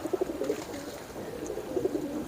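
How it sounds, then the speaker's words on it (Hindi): Pigeons in a loft give soft, low cooing calls in short rolling bursts, one cluster at the start and another near the end, fairly faint against a quiet background hum. "अगर मेरे बैक साइड पे भी देखें तो कबूतर जो हैं वो गूंज रहे हैं"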